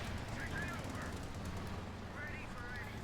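Machine gun fire in Company of Heroes 2, a steady rattle of rapid bursts set low in a busy battlefield mix with other combat noise.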